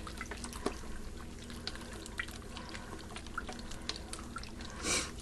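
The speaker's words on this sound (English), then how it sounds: "Let's pour in this stock here." Stock being poured into a pot of beef stew, a faint quiet trickle with scattered drips and splashes, a brief louder splash near the end.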